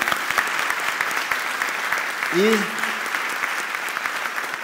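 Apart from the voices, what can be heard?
audience applause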